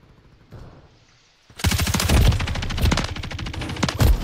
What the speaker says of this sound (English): Oh, we're shooting. I'm shooting him.